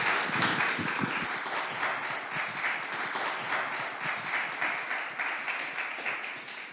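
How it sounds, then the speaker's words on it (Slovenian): Audience applause for the guests at the close of a panel debate on the Western Balkans, steady and even clapping from a crowd that holds across the whole stretch. "Hvala gostom, en aplavz,"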